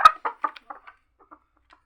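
A mixed-breed hen resembling a country chicken clucks in a short falling series, several close, distinct clucks that fade into quieter, sparser ones.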